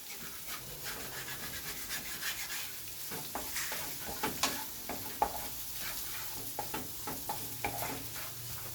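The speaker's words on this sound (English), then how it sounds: "Now you can mix the egg with everything else." Egg is stirred into shrimp fried rice in a hot pan, giving a quiet, continuous sizzle broken by irregular scraping and clinking strokes of a utensil against the pan, heard close with no talking.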